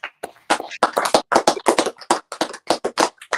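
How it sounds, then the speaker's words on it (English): A group claps in uneven, closely spaced bursts at a brotherhood class gathering, loud and near, with no voices over it. "Clap it up"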